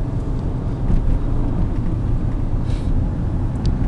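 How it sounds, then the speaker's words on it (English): A car drives along an icy road, its steady low engine and road rumble running throughout, with a faint shift in tone as the transmission changes gears. "As you see, the transmission shifts correctly."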